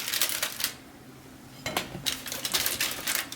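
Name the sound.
plates being handled and put in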